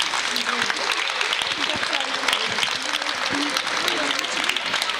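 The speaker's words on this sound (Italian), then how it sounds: "un applauso per le persone dimenticate" Applause from the audience at a live comedy show, dense and steady for several seconds, with voices mixed into the crowd.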